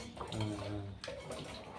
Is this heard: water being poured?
yes